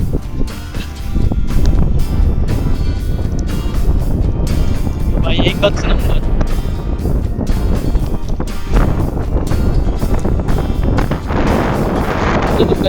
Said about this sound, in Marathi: खूप जोराचा वारा सुटलाय